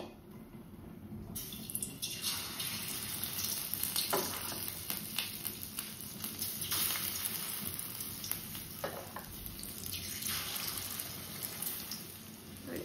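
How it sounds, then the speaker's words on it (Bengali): Chicken pieces marinated with salt and coated in egg and cornflour fry in oil, a steady dense sizzle running throughout with occasional stirring scrapes, close and continuous, no speech. "এবার ফ্রাই করে নেব।"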